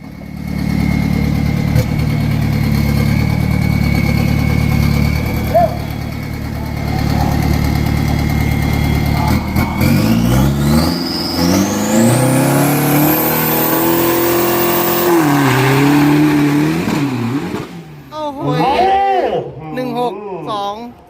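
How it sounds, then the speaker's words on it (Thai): A 1600 kg, 2500cc steel-bodied drag race car with dual shocks at a drag event idles loudly, then revs hard in a long rising sweep before settling into choppy blips, with crowd and announcer voices behind. "คันสุดท้ายขยับรถมาเลยครับ ขยับรถมาได้เลยนะครับ"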